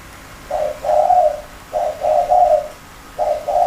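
A zebra dove coos nearby, loud and clear, in three bursts of soft rolling trilled notes separated by short pauses.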